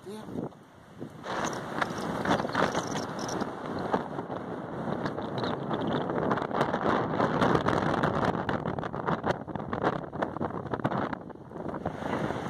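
Strong wind buffets the microphone in a steady, loud roar with gusty surges, continuing for the whole stretch without a break.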